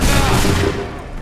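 A close, loud musket volley bursts out in Assassin's Creed III, a single dense crackling blast of many shots fired together that quickly decays into a rumbling tail.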